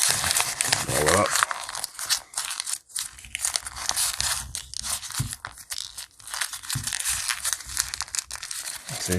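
Torn paper pieces crumpled and rolled into a ball by hand for a paper magic trick, dense close crinkling and crunching that continues throughout, with someone speaking over it.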